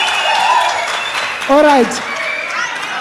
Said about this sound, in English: Gonna give him a big round of applause